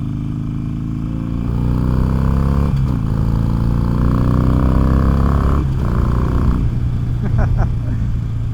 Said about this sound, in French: Je sais pas si le micro rend justice à l'échappement, mais avec mes oreilles à moi c'est vraiment cool.